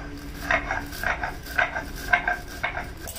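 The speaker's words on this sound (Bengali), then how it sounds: "ধনে আর গোটা জিরে আর গোটা গরম মশলা ভেজে নিয়েছি, সেটাকে গুঁড়িয়ে নিচ্ছি" Roasted coriander, whole cumin and whole garam masala being ground by hand in a kitchen, giving a steady run of rhythmic scraping, clattering strokes at close range, repeated about every half second with no talk.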